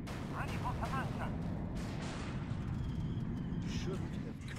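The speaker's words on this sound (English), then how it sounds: "Torpedo launcher reports ready. Torpedoes away!" Torpedoes launching and exploding in a space combat video game, heard as a steady, dense rumble of booming blasts and gunfire-like bursts, with voices talking over the battle.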